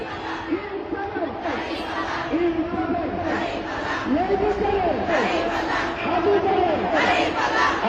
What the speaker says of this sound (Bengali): এবং তারই সাথে দাঁড়িপাল্লার যে স্লোগান সেটিও কিন্তু শোনা যাচ্ছে।